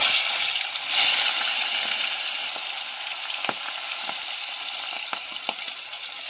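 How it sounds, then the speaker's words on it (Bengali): Cut pangas fish pieces fry in hot oil with a steady, dense sizzle that never stops, sharp crackles and pops scattered through it, close up and without speech. "এবার মাছগুলো আমি ভেজে নেব।"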